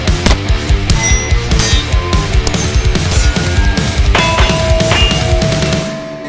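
A steel target rings after a distant rifle hit at 500 yards, with repeated sharp metallic pings and sustained bell-like tones that fade out toward the end.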